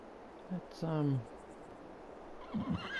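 A horse in Farming Simulator 22 gives a clear, fairly close whinny lasting about half a second, with a couple of short snorts before it and a few hoof clip-clops and soft noises afterward.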